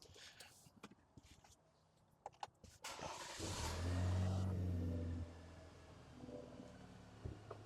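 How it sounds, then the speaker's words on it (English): A few faint clicks and knocks, then a truck engine cranks and roars to life, revving briefly before settling into a steady idle. "I'm going to turn the truck on and see how this goes."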